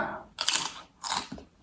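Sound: chewing crunchy spicy Thai salad with kohlrabi

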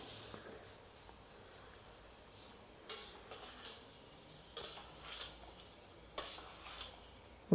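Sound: stirring chicken pieces into masala in a pot

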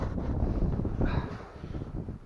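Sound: strong wind while fishing from a boat

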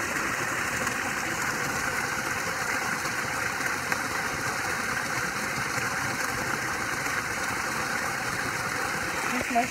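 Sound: waterfall by a pool

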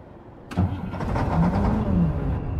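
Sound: truck engine starting in video game Truck Logistic

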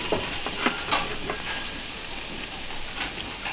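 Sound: frozen chicken frying in a covered pan

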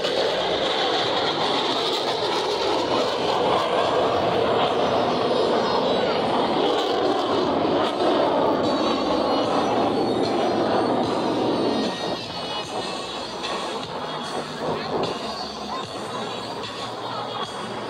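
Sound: Blue Angels jets crossing over at air show

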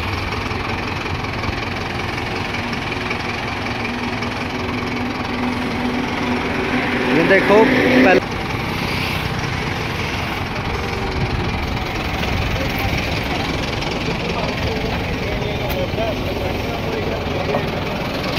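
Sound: tractor engine running while pulling a PTO trolley

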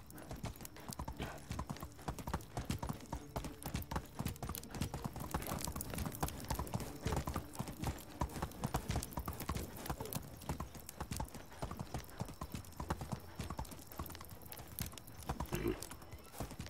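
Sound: horse hooves clip-clopping in the video game Medieval Dynasty

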